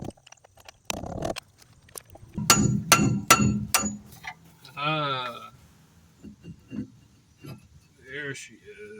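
Hard hammer blows on a seized brake rotor of a Volvo 240 DL, a few loud sharp metallic strikes in quick succession with ringing, mixed with grunts and speech.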